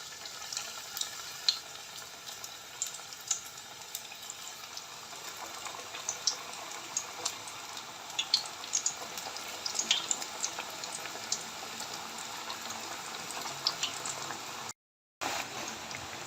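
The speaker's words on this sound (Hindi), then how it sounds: "अब हम पकौड़ों को जो है ना वो पैन में डालते हैं फ्राई होने के लिए" Potato pakoras frying in mustard oil in a pan, a steady close crackling sizzle with constant popping bubbles throughout, briefly cutting out near the end.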